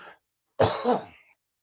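A single harsh cough up close, loud and raspy, preceded by a brief faint breath and followed by silence.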